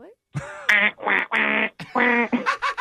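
A voice imitates a duck, giving a rapid run of nasal, raspy quacks in short bursts, close and clear against silence.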